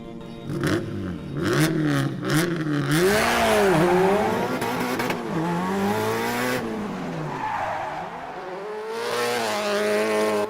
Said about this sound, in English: I'll show you a couple of clips of Ken putting the Subaru through its paces